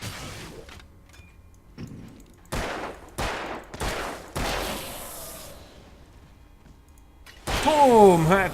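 Gunshots in Alan Wake ring out as several separate sharp cracks spaced about a second apart, each with a decaying tail, followed by a louder burst of noise near the end.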